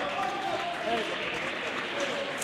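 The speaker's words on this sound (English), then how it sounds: "gets a round of applause from the fans in the stands" Fans in the stands applaud at a pool match between Ceazer Chandiga and Aden Joseph, a dense steady patter of clapping throughout, moderately distant, with a commentator talking over it.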